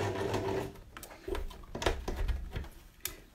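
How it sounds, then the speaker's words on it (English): A sewing machine back stitches along a fabric face mask with short stop-start runs of rapid needle clatter and a few sharp clicks, close and fairly quiet, without talk. "So make sure you do back stitch, hold that gather in place"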